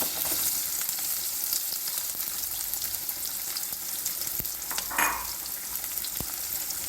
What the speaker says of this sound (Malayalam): സബോള ഇട്ട് കൊടുക്കാം കേട്ടോ